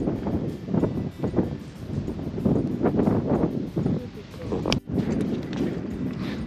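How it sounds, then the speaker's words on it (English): Wind gusting at a lookout over Blue Lake in Guyana, a steady loud rushing with rumbling buffets across the microphone, continuous throughout. "And it's getting windy."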